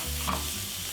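Cumin seeds sizzling steadily in a pan with celery, a close, continuous crackling hiss with a brief stirring scrape.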